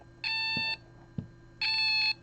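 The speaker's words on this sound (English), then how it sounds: "The alarm's gone up to 21, alarm goes off." A temperature-sensing alarm built on a Raspberry Pi gives two sharp electronic beeps, each about half a second long and separated by a pause, with faint clicks between them.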